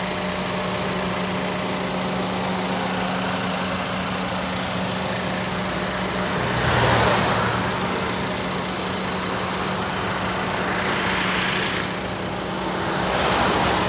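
A 2020 Suzuki Swift Sport's 1.4-litre three-cylinder turbo Boosterjet engine idles steadily and close by, with a slight swell in its note partway through and no one talking.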